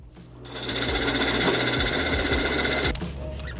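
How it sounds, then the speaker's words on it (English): A drill press whirs steadily with a high mechanical whine and rattle, starting up and running for a few seconds before winding down, close by. "So back to the drill press."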